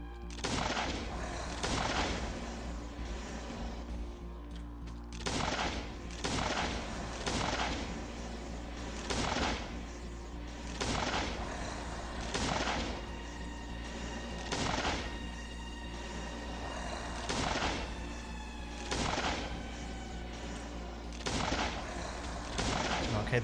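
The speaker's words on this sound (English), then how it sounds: "the flare gun maybe isn't the best gun against this dude, but I mean, it works okay" A flare gun fires repeatedly against an enemy in the survival game Last Day on Earth: Survival, loud booming shots at a steady rhythm about every two seconds, each followed by a ringing tail, with no talking.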